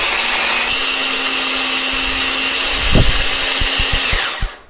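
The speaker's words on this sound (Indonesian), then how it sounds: "Nah ini aku menghaluskannya pakai chopper ya, biar nanti teksturnya itu lebih cantik." An electric chopper whirs steadily as it grinds red and green chilies, a loud continuous motor drone with a few rattling knocks near the end before it stops.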